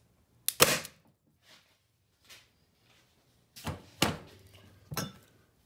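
An Umarex HDS T4E pistol firing a TR50 round into ballistic gelatin: a sharp pop near the start, then after a pause several more quick, close, dry cracks and clacks of handling, with no talk.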